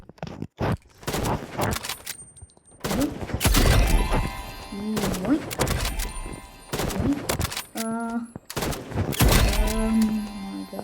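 Gunfire at a shooting range in a video game, bursts of sharp shots and rapid volleys with metallic clanks and brief pauses, loud and close, with someone talking in between.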